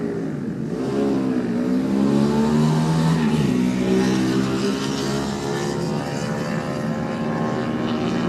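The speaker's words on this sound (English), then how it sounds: "Dave Matravers away on the Norton." A Norton superbike pulls away from the start of the 2019 Classic TT Superbike race, its loud engine holding a steady, rising drone close by for several seconds.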